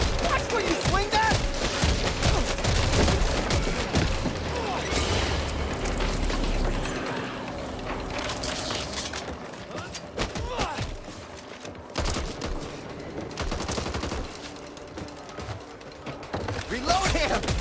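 Sustained gunfire rattles through a Back 4 Blood co-op fight, with dense overlapping shots, pops and booms over a constant background of game noise. Characters talk in places.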